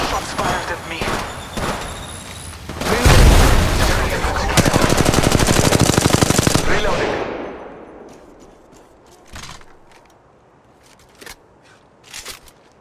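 In the video game Apex Legends Mobile, loud rapid gunfire bursts erupt, building into a sustained machine-gun volley before fading into sparse single shots, with game voice lines spoken over the action.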